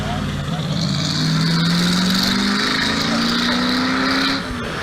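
An MGB GT fitted with a Rover V8 races at the Leyburn sprint, its loud engine roaring steadily with pitch climbing through the run, heard close and filling the scene.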